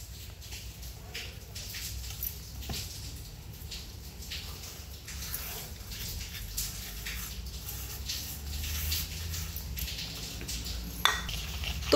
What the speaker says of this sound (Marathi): तुपामध्ये मस्त असं पिठी साखर टाकून हलवून घ्यायचं आहे।